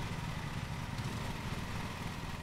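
A lawn mower engine revs in the Lawn Mowing Simulator video game, a steady mid-pitched motor drone with a slight throttle wobble, running continuously without talk.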